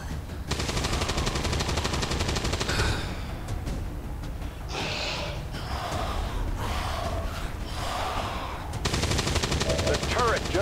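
Sustained rapid bursts of turret machine gun fire from the XCOM 2 War of the Chosen game, loud and dense at the start and end, interrupted by gasps and creature grunts in the middle.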